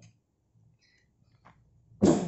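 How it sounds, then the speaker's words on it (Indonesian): A single sharp cough bursts out at the end after quiet rustling and faint background sounds, close and loud. "maaf lagi batuk soalnya"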